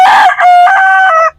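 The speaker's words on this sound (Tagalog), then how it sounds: "Ipapakita ko sa inyo yung mga alagang manok namin dito sa bukid" A fighting rooster on a farm crows once, loud and close, a single drawn-out cock-a-doodle-doo lasting just over a second.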